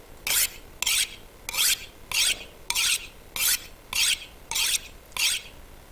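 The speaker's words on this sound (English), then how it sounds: "Now let's do the hatchet. We'll sharpen that." Hatchet being sharpened on a whetstone in The Long Dark: nine evenly spaced rasping strokes, each a short bright scrape about half a second long, close and clear with no talk.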